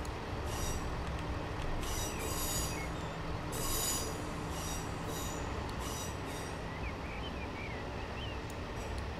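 A Train Simulator 2021 train departs the Chiltern mainline heading downhill. Loud, repeated bursts of wheel squeal ride over a continuous rolling rail rumble, with no voices.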